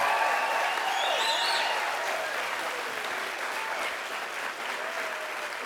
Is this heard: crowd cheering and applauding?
yes